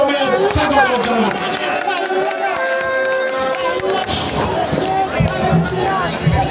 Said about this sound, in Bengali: আমরা করতালির মাধ্যমে স্বাগত জানাই।